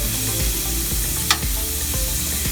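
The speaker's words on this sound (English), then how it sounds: "I'm going to take aromatics, dump it on in there, and let it do its work" Aromatics dumped into a pan with sausages fry in a steady, close sizzle with a few soft clicks and one brief sharp spike partway through.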